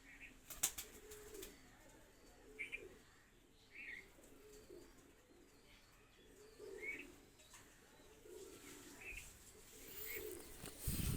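A pair of young Kamagar pigeons coo softly in short, scattered phrases against a faint, noisy background, with occasional louder bumps.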